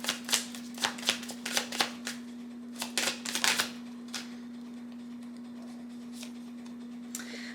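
Tarot cards shuffled by hand in quick bursts of riffling and flicking, close and crisp, trailing off to a few soft taps over a steady low electrical hum, with no voices.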